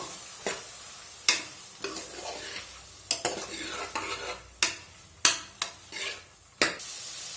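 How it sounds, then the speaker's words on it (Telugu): Cauliflower curry with chana dal frying in a pan, a spatula repeatedly scraping and tapping the pan in an uneven rhythm over a steady soft sizzle, close by with no talk. "మరోసారి ఇలా కలుపుకొని 1 నిమిషము ఇలాగే వేపుకుందాము"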